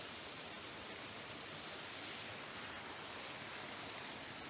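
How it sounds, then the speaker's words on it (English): A small artificial waterfall beside a footbridge and lake flows with a steady, even rush of water that stays constant throughout, with no voices. "I get to see this beautiful little waterfall. I think it's fake, but I like the sound."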